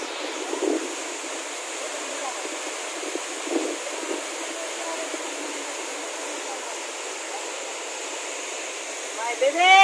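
Rapur waterfall on the Siddeswara Kona ghat road near Nellore rushes as a steady, continuous roar, with brief louder noises and faint voices over it.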